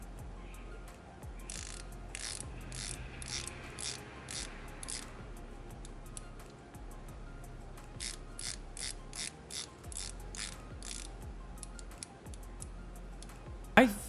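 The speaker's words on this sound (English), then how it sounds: "let's hear the bezel ratcheting here." The rotating bezel of a Seiko SPB213 dive watch ratchets in crisp, quiet clicks, heard in close bursts of several rapid clicks separated by short pauses.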